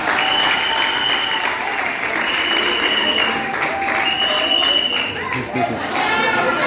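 A church congregation applauds to acclaim the Lord during a worship service, a loud, sustained wash of clapping with cheering voices mixed in across the whole stretch.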